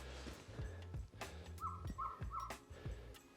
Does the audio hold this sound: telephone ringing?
no